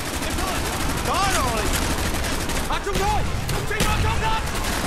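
Dense gunfire and explosions in Call of Duty Black Ops set in Vietnam, a loud continuous barrage of rapid shots and booms with a thrown grenade, with brief shouted voices mixed into the chaos.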